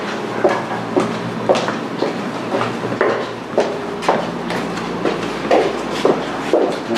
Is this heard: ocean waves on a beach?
no